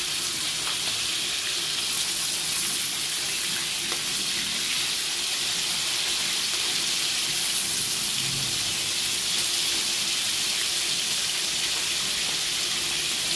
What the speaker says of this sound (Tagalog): Prito lang yan.